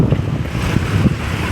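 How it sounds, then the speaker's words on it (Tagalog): Strong wind buffets the microphone at the Manila Bay waterfront, a steady roaring rush with gusty low rumbles that swell and ease throughout, mixed with the wash of water, loud and close with no talking. "Malakas pa rin ang hangin dito sa Manila Bay"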